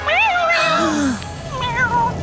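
A cat meows several times in quick succession, rising and falling whines, close and clear.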